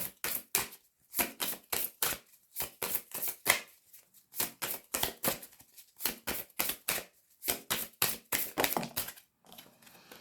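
Tarot cards are shuffled in rapid bursts of crisp, close riffling flicks, with short pauses between runs and a softer slide at the end as a card is drawn.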